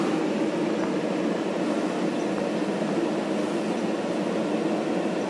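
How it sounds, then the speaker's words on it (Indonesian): CC203 diesel locomotive of the Serayu train, idling or moving at a station, gives a steady, loud, even rumble and hiss with no voices. "Itu lokomotifnya CC203"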